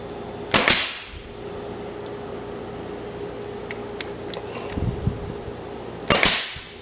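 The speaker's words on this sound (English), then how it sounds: "I got to make sure my gun is level and I'm shooting the brads into the center" A 16 gauge brad nailer fires two sharp, loud pops into wood for decorative stackable shelves, roughly five seconds apart, with a soft shuffle of handling between them over a steady hum.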